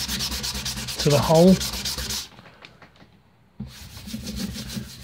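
Rhythmic back-and-forth sanding rasps close up over filler on a boat's teak veneer, stops for about a second and a half, then resumes; someone speaks briefly over the scrubbing.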